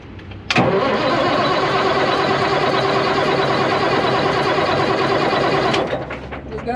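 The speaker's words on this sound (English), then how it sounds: "All right, we're up in the old 983. See if she'll start up." An old Caterpillar 983 loader's diesel engine cranks and catches with a sharp onset, then runs as a steady, loud, close idle for several seconds before cutting off abruptly.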